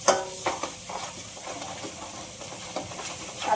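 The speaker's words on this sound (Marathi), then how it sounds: "आता आपण थोडीशी कोशिंबीर टाकूया, अजून परतून घेऊया" Koshimbir tossed into eggplant masala in a pan over a low flame, giving a soft hissing sizzle with a few scraping stirs near the start and end, fairly quiet and with no one talking.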